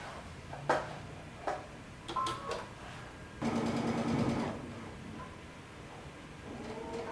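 A sewing machine back stitches a pants seam in a brief close run of about a second, surrounded by faint clicks, fabric handling and a soft whirring toward the end.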